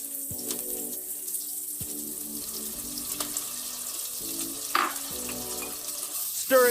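Chopped garlic and almonds frying in a pan for a red cabbage salad: a steady close sizzle with scattered clinks and scrapes of stirring, no talk.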